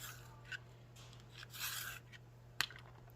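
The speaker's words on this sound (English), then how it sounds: "Sharpen this real quick." A pencil being sharpened: a soft, brief grinding scrape lasting about half a second, faint against a steady low hum, with a few small clicks and taps around it.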